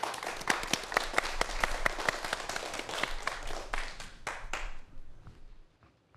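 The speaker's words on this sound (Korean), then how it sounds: "다시 한번 큰 박수로 청해 보도록 하겠습니다." Audience at a space-themed lecture event applauds the final speaker, a dense burst of many hands clapping with sharp individual claps, steady then fading out toward the end.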